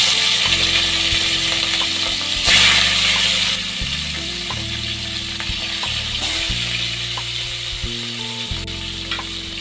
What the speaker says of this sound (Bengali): এই পর্যায়ে এসে এক এক করে মাছগুলিকে আমি কড়াইয়ের মধ্যে ছেড়ে দেবো